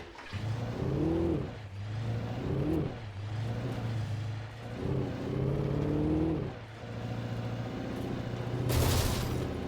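A car engine in the Alan Wake video game drones steadily at moderate volume, rising and falling in repeated revving swells as it drives, with a brief sharp burst of noise near the end.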